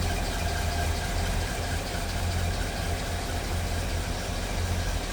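A 1941 Chevrolet pickup engine with newer plugs and wires idles smoothly at a car show, a steady low thrum with an even pulsing beat that carries on alone and unbroken.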